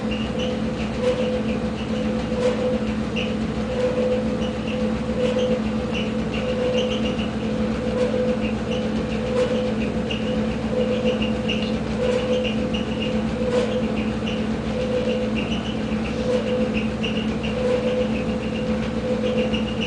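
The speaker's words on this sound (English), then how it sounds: "there's also some grinding noise, something like there's something loose" Gas furnace in a townhouse, giving a steady, loud mechanical drone with a low rumble and a faint grinding rattle running throughout, as though something inside is loose, with no talking.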